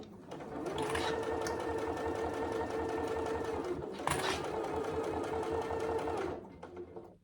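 A sewing machine runs steadily, stitching along the top edge of a pleated front pocket on a saddle bag, with a brief pause around a pivot before stitching resumes and then stops; close and clear, no talk.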